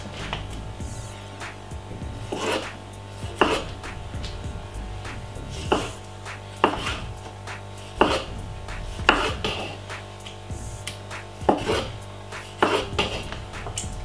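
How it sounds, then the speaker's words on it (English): Knife chopping tomatoes on a board: a dozen or so sharp, evenly spaced cuts over a low steady hum, with soft scraping between strokes and no talking. "roughly three medium-sized tomato, which, you know what I mean"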